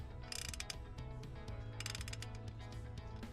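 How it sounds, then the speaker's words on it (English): Rapid ratchet clicking in quick bursts as a 3/4 socket loosens the oil drain plug on an AXIS X550/XS750 motorcycle, close and fairly steady with a low hum underneath. "First thing we're going to start with is a 3/4 socket to get this drain plug off."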